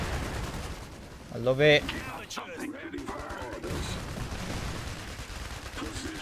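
Battle gunfire in the game Iron Harvest, set during the Saxony campaign: scattered shots and bursts with a heavier blast, rumbling under voiced unit callouts.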